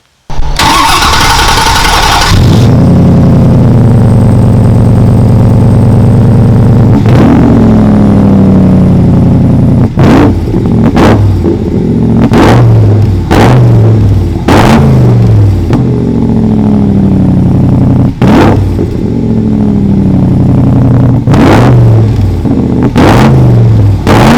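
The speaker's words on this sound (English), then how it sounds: "wait till you hear how this car sounds with that Coyote and Roush 8 stack" A 1965 Shelby Cobra replica by Backdraft Racing, powered by a Coyote V8 with a Roush eight-stack intake, cranks and catches, then barks through a series of sharp revs that fall back toward a rumbling idle, loud and close with no talking.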